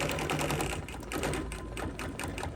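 A sewing machine over-sews pieces during quilt assembly, its needle running in a rapid, steady mechanical chatter with a few brief changes in pace, close and fairly loud without any talk.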